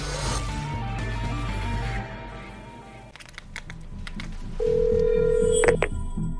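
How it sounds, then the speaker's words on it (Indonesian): A telephone rings for a secret call. Music plays first, then a steady electronic ring tone sounds alone for about a second, clear and fairly loud. "Telepon rahasia."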